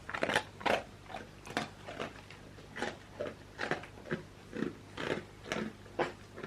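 Someone bites into a donut and chews it up close, giving a steady series of moist crunchy bites and chewing bursts about twice a second, with no talk over them.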